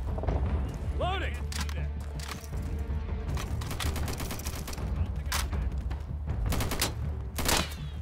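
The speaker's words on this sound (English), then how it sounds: "Who's shooting at me?" Gunfire in the Insurgency co-op video game, with M249 SAW fire mixed in, crackles in dense rapid bursts and scattered single shots, loud and continuous, while a player's voice briefly comes through.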